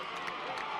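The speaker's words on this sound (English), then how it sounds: "getting a nice round of applause from the student body here at the Wildcat Stadium" Students in the stands at Wildcat Stadium cheer and applaud during a high school football game on a Breast Cancer Awareness pink-out night. The crowd noise is dense, steady and moderately distant, with no break.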